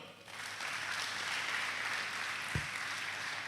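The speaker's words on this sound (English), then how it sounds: "You can clap better" Audience clapping at a film and TV investment summit, a dense, even wash of many hands at moderate level, alone without talk.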